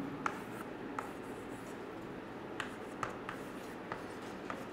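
A marker or chalk scratches across a classroom board in a few short, faint strokes and taps, spaced irregularly over a low steady room hum.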